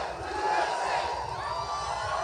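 A large rally crowd for Donald Trump in Knoxville, Tennessee roars with loud, sustained cheering and chanting, a dense wall of voices with no break.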